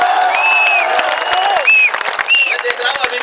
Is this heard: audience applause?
yes